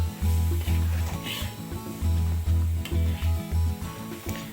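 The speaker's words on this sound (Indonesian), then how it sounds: "Tumis kol ini sebetulnya nggak lama-lama kok, sebentar aja dia mateng." Shredded cabbage and carrot stir-fried in a pan, a loud continuous sizzle with repeated scraping bursts as the vegetables are tossed.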